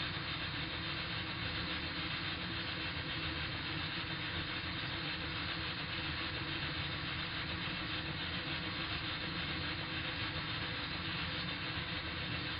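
A model vertical steam engine runs steadily, giving a continuous even mechanical churn and hiss at constant level throughout, with no voices.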